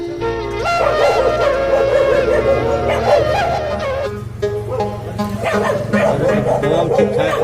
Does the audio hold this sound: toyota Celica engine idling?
no